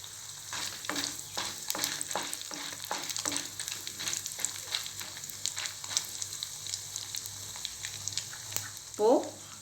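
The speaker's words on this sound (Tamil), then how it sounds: "இப்போ உளுந்து கடலைப்பருப்பும் நல்லா பொரிஞ்சு வரும்போது 2 வரமிளகாய் ஆட் பண்ணிக்கிறேன்." Urad dal, chana dal and dried red chillies fry in a pan for a Manathakkali keerai chutney, giving a steady crackling sizzle broken by a series of rhythmic stirring scrapes, ending with a short louder rattle.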